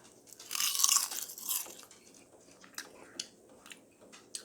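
Crisp crunching of air-fried ranch-flavored kale chips being bitten and chewed close up. A loud burst of crackling comes first, followed by softer, scattered crunches.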